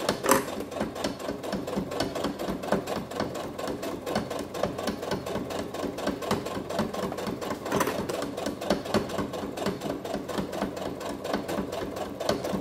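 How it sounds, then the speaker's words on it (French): A sewing machine stitching a seam with a 3.5 stitch length through thick fabric, with rapid steady needle clatter running loud and close throughout and a brief accent near the start and another at about eight seconds. "Et on est parti pour une couture."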